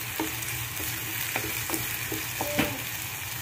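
Tomato frying in a pan, giving a steady close sizzle with a few soft scrapes and clicks from stirring throughout.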